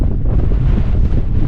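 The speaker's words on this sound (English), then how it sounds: "It's pretty windy, to be fair." Strong wind gusting over the top of Hope Bowdler Hill in the English countryside, buffeting the microphone with a loud, constant low rumble that never lets up.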